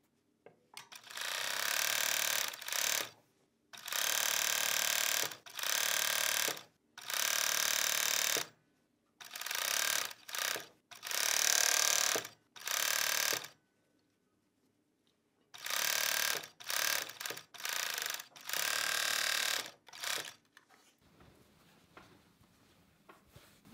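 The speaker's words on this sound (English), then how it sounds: "Now I'll start stitching from the sleeve hem." A 4-thread serger stitches sweatshirt fabric at a sleeve hem in loud, steady machine bursts of one to two seconds, separated by short pauses, running alone without talk.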